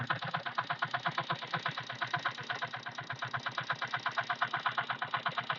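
A car engine idles steadily just after a direct start, its coolant leaking from hose pipes, with a fast even rhythmic chugging running close and alone throughout.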